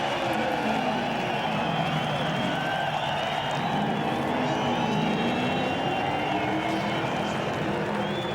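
A large crowd of race fans roars at Circuit Gilles Villeneuve in Montreal during a NASCAR Xfinity Series race, a steady broad distant wash of cheering sustained throughout.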